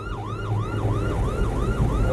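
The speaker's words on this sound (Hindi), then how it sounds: "इनको पता ही नहीं है कि पीछे एम्बुलेंस है" An ambulance siren wails in a fast, repeating up-and-down cycle on a busy road, loud and continuous over the low rumble of traffic.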